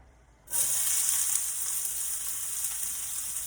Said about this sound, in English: in a frying pan here, I have a little bit of oil, and I have onion that I chopped up